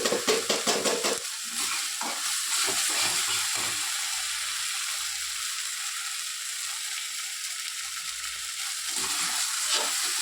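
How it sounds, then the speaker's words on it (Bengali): Spice paste frying with a splash of water for a silver carp fish curry, a steady close sizzle and hiss with stirring scrapes, louder at the start and again near the end. "এই একটু জল দিয়ে মশলাটা ভালো করে কষে নিচ্ছি"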